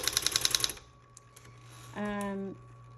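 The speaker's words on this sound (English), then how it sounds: "there are 3 keys on the electric typewriters that have an auto repeat when you hold them down" A fast burst of about ten rapid mechanical key strikes from a Smith Corona Electra 110 electric typewriter's auto-repeating key, then quiet clicks and a short electronic tone.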